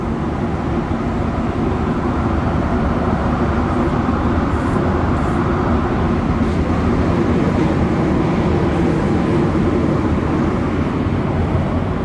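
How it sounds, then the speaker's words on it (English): A Montreal Metro train running in manual mode rolls between Côte-Sainte-Catherine and Angrignon, a loud, steady rumble of wheels and motors that fills the car throughout, with no clear break for the hard braking. "this train's on manual mode, man. You can tell. Very hard braking."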